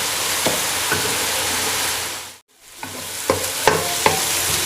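Chopped onions sizzle steadily in a pan for a mutton karahi, with several clinks and scrapes of a spoon stirring them, the frying briefly dropping out midway before resuming.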